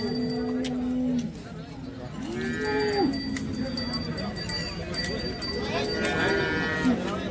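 A cow moos several times, long low calls near the microphone, over a noisy outdoor cattle market background in Sangola with people talking.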